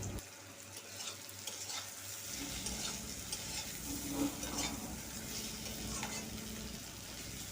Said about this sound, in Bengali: করলা ভাজার সময় আমি পরিমাণ মতো লবণ এবং হলুদ দিয়ে করলাটাকে ভেজে নেব